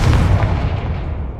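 A Confringo blast spell explodes in the Hogwarts Legacy video game, a single loud, close boom that decays over about a second and a half with no talk.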